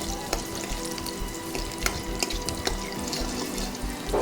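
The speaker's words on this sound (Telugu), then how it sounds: "అందులో తెల్లగడ్డలు వేసేసుకోవాలి సన్నగా కరిగి పెట్టుకున్నాం" Chopped garlic fries in hot oil in a pan, giving a steady, close crackling sizzle that stays even throughout, with a few brief clicks and no talking.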